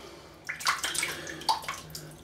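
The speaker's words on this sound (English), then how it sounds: "let's wet this brush in the water here" A shaving brush dipped and swished in water, soft close splashing and dripping in a few short bursts over about two seconds, with no talking.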